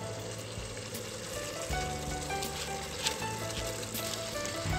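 Soaked, washed basmati rice goes into a sizzling tomato biryani masala, a steady loud frying hiss with a few brief scraping clinks, no talk.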